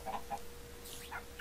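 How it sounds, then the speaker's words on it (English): Chickens cluck in the video game Minecraft, with a few soft, short calls spread through a quiet moment and no talking. "how are my chickens doing anyway?"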